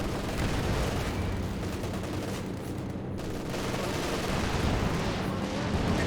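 An artillery barrage and battle din in the Company of Heroes 2 video game, a dense, continuous roar of blasts and gunfire with no pause.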